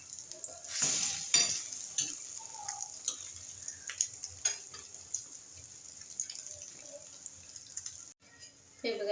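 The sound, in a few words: breakfast food frying in a pan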